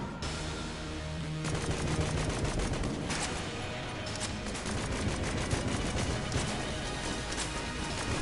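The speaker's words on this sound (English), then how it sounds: "Let's see how we get on with the strafe gun." Strafe gun blasting in Enter the Gungeon during a boss fight, a dense, continuous barrage of rapid game gunfire lasting the whole stretch with no break.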